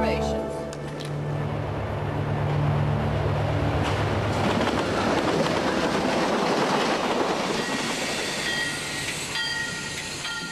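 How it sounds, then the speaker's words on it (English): An express passenger train with single-deck cars rolls along the rails, its wheels rumbling and clattering loudly and steadily, with faint squeals above the roar, while a voice narrates over it. "The dinner menu occupied their attention as the express train gradually gathered speed."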